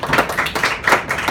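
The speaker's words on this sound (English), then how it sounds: "give yourselves a round of applause really quick" A classroom group claps in a quick, uneven round of applause, with dense, close hand claps rising and falling in bursts for a little over a second.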